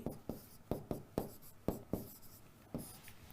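Chalk or marker strokes on a board during a lecture, a series of sharp taps and short scratches in an irregular rhythm, close and clear with no talk.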